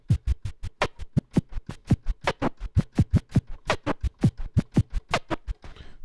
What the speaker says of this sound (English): scratching with drum sounds